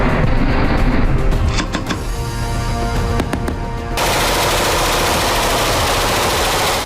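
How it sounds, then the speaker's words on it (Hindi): Gunfire from a Russian navy live fire exercise in the Baltic Sea, loud dense bursts of rapid shots that give way to a continuous roaring barrage. "पुतिन की नेवी बाल्टिक सागर में लाइव फायर एक्सरसाइज कर रही है।"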